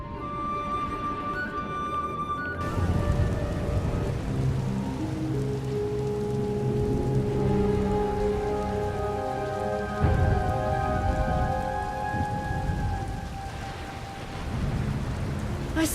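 Steady heavy rain and a rainstorm in the video game SWTOR, a continuous dense patter on surfaces with a low rumble beneath, holding at a fairly loud level throughout with faint tonal game sounds over it.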